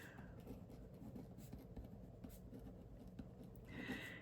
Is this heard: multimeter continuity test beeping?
no